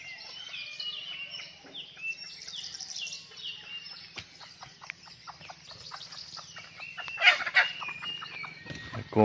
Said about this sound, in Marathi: कोंबड्या पण इकडे फिरतात आहेत.